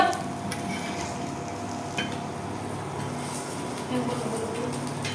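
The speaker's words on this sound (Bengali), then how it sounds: "চিকেন ফ্রাই ভাজা হয়ে যাচ্ছে" Chicken pieces fry in a home kitchen while Ramadan iftar is prepared, giving a steady low sizzle with occasional stirring clatter as voices talk in the background.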